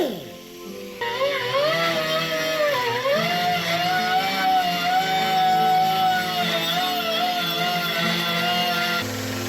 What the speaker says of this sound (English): So we're just going to give the old wire wheel finish.